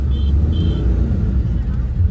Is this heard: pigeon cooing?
no